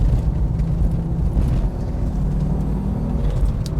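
A 1986 Audi Quattro UR driven hard through tight bends gives a loud, close, continuous engine roar and rumble that swells and eases slightly with the throttle. No one speaks.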